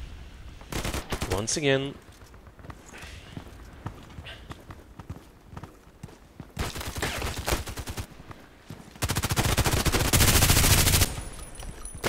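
Gunfire in the shooter game Contract Wars: several dense bursts of rapid automatic fire, loud and close, separated by quieter stretches of scattered single shots and game noise, with a short spoken phrase partway through.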